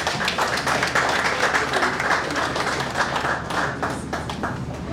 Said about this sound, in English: Ladies and gentlemen, please applaud him once again.